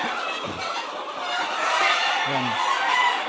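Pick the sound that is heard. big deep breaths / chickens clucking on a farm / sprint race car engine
chickens clucking on a farm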